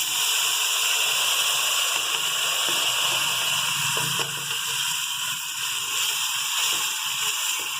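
Tomato paste hits hot frying onions and chillies, and the pan sizzles with a steady hiss while a brief stir or shuffle breaks through midway.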